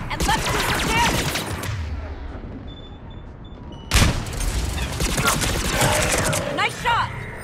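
Mass Effect 3 firefight with rapid bursts of gunfire and sharp impacts, including one loud blast midway, played under continuous talk and in-game voices.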